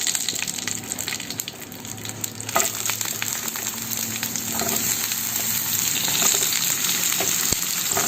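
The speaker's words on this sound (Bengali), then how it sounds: "পটলগুলোকে আগে আমাকে সুন্দর করে ফ্রাই করে নিতে হবে" Pointed gourd (potol) pieces frying in hot oil with whole cumin and bay leaf, a continuous loud sizzle with crackling pops and occasional clinks of a utensil, no talking.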